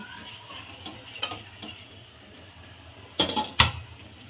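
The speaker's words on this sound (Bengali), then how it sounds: "আবারও নাড়া দিয়ে দিব। এবারে ঢেকে দিব।" A metal spoon scrapes and stirs chicken khichuri with cumin and ginger paste in a cooking pot, soft taps followed by two louder clanks near the end as the lid goes on.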